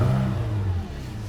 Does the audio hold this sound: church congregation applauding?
no